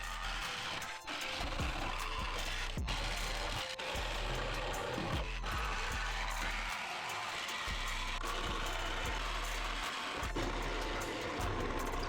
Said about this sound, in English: Watch as I cut it right out with my Sawzall.